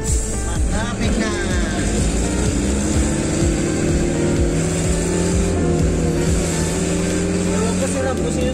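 Road traffic in Taguig City heard from inside a moving delivery vehicle, its engine droning steadily and loudly close by, with a voice talking over the continuous rumble.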